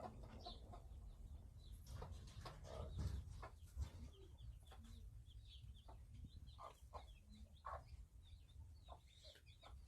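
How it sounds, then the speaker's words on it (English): Black chickens on a farm cluck softly in short, scattered calls, faint and somewhat distant over a steady low background rumble, with occasional louder clucks breaking through. "I got a whole lot of black chickens now"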